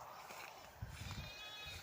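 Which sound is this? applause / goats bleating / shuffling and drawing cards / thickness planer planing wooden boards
goats bleating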